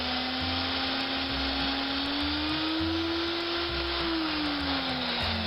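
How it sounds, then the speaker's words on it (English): A power drill whirs continuously up close, its motor pitch rising slightly then falling, with irregular grinding bites as it drills the centre of a metal part for a diecast model searchlight. "Just drilling the centre."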